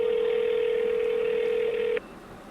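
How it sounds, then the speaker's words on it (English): A telephone ringback tone sounds on an outgoing call to a flood disaster agency. The steady, loud electronic tone holds for about two seconds, then cuts off abruptly, leaving faint line hiss. "I called several times, only for the phone to ring and then hang up."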